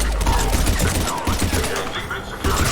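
Dense gunfire during a Mass Effect 3 firefight, a steady loud fusillade of rapid shots filling the whole stretch, with a voice faintly audible underneath.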